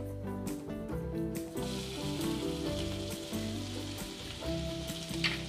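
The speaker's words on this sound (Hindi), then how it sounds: "तो फ्रेंड्स, यहाँ पे हमारा जीरा तड़क गया है अच्छे से। अब हम इसमें ऐड करेंगे लहसुन।" Garlic dropped into hot oil after cumin has crackled for a dal tadka, sizzling and spitting loudly and steadily up close, with a few stirring scrapes in the pan.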